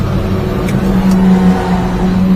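Loud car engine drone with a steady revving hum, a car drifting under throttle, continuous and close with no talk.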